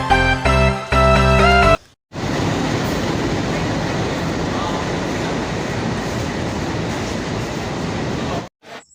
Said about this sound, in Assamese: আৰু এতিয়া ৰেল ষ্টেচনখনত ৰেল এখন আহিলে আপোনালোকে চাবলৈ পাইছে।